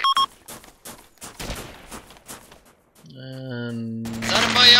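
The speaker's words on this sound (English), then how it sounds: "Shooting has started." Gunfire in the military video game Arma II: a burst of sharp shots comes early, followed by steady electronic tones, with shouted voices scattered through the clip.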